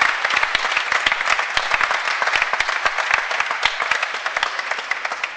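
An audience applauds warmly at an event, dense steady clapping from a crowd continuing throughout without pause.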